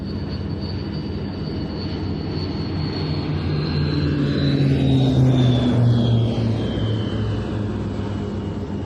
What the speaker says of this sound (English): curving in over our right shoulder to start its display practice, the Turbo Firecat from the Musée Européen de l'Aviation de Chasse